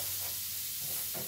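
Food being stirred around in a pan, a soft scraping and shuffling over a steady low sizzle, quiet and close, with no voices.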